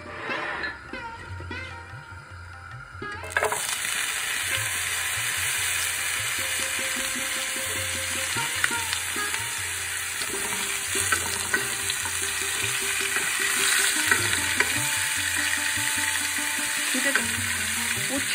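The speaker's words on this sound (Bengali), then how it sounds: "এই ঘিয়ে আমি আগে উচ্ছেটা ভেজে নেব।" Salted bitter gourd fries in ghee for a Bengali shukto. A muffled start jumps into a steady, bright sizzle that runs on, close and even, with scattered spoon-stirring clicks and scrapes.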